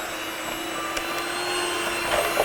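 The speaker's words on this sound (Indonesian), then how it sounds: "Nah lalu kita kocok dengan hand mixer sampai dia kayak krim nanti." A hand mixer whips a cake mixture until it turns creamy, giving a steady, close, buzzing motor whir that runs unbroken from start to finish with no talking.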